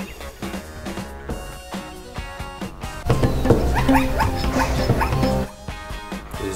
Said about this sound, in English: Is this the sound of a zebra?